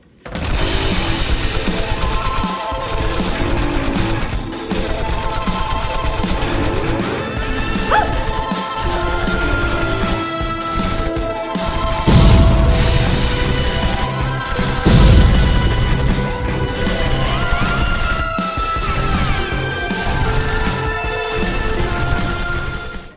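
Loud, dense VR arcade shooter action from Space Pirates, with alien robots being shot amid constant game blasts, crashes and music throughout, with no clear speech.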